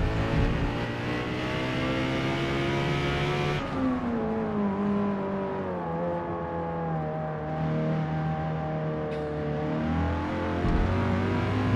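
A race car in Forza Motorsport laps Brands Hatch in slightly damp conditions. Its engine holds a strong, steady tonal drone, drops sharply at a gear change a few seconds in, then climbs and wavers again through corners.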